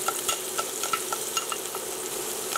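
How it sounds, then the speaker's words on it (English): Minced garlic frying with cooked onion in a pan for chicken-and-pork stir-fry noodles, a bright continuous sizzle with quick repeated spatula taps and scrapes, close and steady. "now that my onion here is cooked, I'm going to add in my minced garlic"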